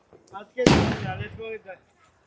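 A single sharp firecracker bang bursts out loudly amid people talking during Diwali, its crackle trailing off over a second or so.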